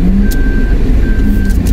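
Motorcycle passing on a road near a baywalk in Tanauan, Batangas, heard as a steady engine rumble within continuous traffic noise.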